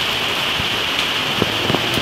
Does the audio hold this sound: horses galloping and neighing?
no